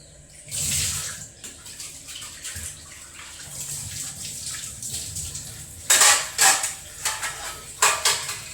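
Water splashes and pours in uneven bursts, with light clinks of a pot or dish, growing louder toward the end.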